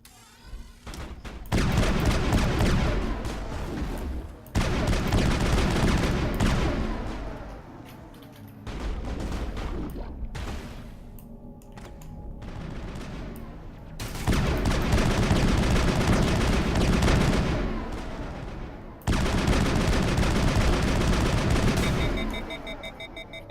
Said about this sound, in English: we gotta give her some cover fire